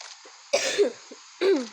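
Two short, raspy coughs nearby, separated by a brief pause, over a faint background hum.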